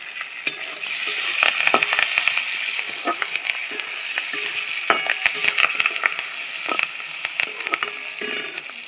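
Potatoes with green chillies and curry leaves sizzle steadily in hot oil in a pan, with loud continuous frying crackle and repeated scraping stirs of a spatula throughout, no voices.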